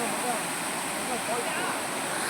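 Mangalam waterfall on Pachaimalai pours down, a steady even hiss of falling water, moderately close and unbroken, with a voice faintly present in the background.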